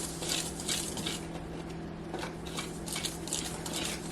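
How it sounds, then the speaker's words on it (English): Dry cake ingredients are whisked in a bowl, producing a steady, rapid close-up scratching and patter with a low background hum and no talking. "now I'm just gonna whisk all my dry ingredients"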